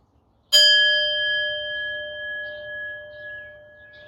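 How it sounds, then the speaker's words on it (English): A small prayer bell is struck once, a clear close ding that rings on with a sustained shimmering tone and slowly fades in a quiet room. "I like to ring a bell."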